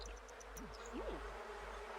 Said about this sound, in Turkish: Arı var bu kadıncağızı rahat bırakın artık.